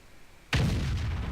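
A single heavy tank cannon shot in World of Tanks, a sharp loud blast that rolls into a sustained rumbling decay, close and alone.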